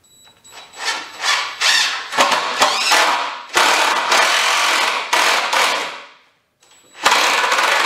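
A power drill bores pilot holes for screws while a Kawasaki Mule trailer is rebuilt, sounding as a series of loud whirring bursts that rise and stop, with a short pause near the end before another burst.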